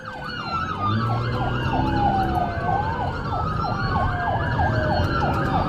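Police car sirens blare through a small neighborhood in Worthington, several wailing tones overlapping steadily and loudly alongside road traffic.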